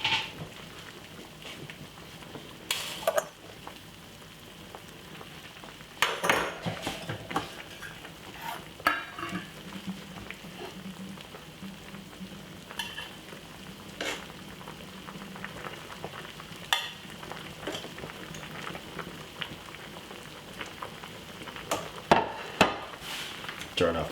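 Broccoli and carrot cook in a pan on a stove, giving a steady low sizzle with repeated scraping stirs and occasional clinks of a utensil against the pan throughout.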